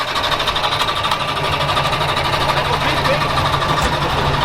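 Several vintage Eastern European car engines idle together at a classic-car gathering, a steady dense mechanical rumble with a rhythmic knocking pulse holding evenly throughout, loud and close, with crowd chatter mixed underneath.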